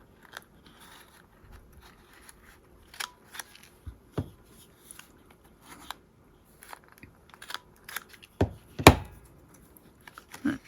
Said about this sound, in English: I think I want to round the corners on that as well.